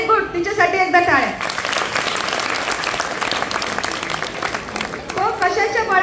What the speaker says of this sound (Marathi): तिच्यासाठी एकदा टाळ्या